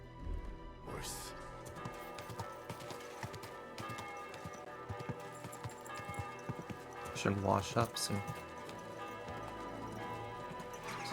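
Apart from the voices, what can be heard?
horse hooves clip-clopping, from video game Kingdom Come Deliverance 2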